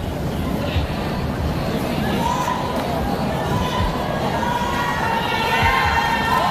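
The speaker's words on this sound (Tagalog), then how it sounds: "And you can see the crowd cheering." A crowd at a Cambodia versus Vietnam volleyball match cheers continuously, a loud, dense roar of shouting with high children's voices, steady throughout.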